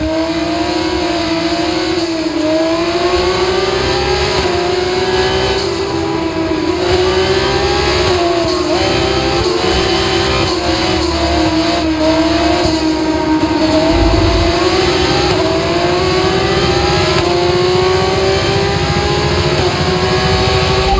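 Race cars in the F1 25 video game accelerate as the field restarts after a safety car, a loud continuous engine whine rising and shifting in pitch over steady roar, with several engines layered together and no talk.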